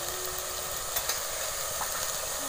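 Spice masala with ginger, garlic, chili, mint and onion sizzles and crackles steadily in a hot pan while being sautéed for egg biryani, a continuous close frying hiss with no voices.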